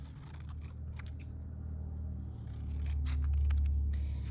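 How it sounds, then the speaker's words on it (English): Scissors snip through green paper, cutting long strips for flower stems in a craft project, giving a few crisp cutting sounds close to the microphone over a low steady hum. "I'm gonna hold it the tall way and I'm gonna cut some long strips"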